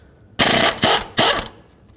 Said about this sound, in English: remove these 2 14mm nuts, then I'll switch to my 8mm Allen and remove the bolts